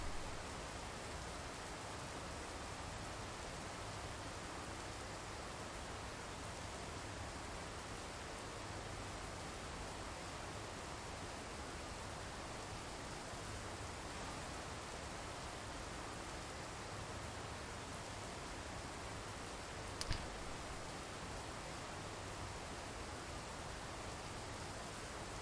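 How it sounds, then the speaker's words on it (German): Steady, even video-game rain hiss fills the whole stretch, a constant wash of falling water with one brief tick partway through. "Und es regnet. Super Wetter."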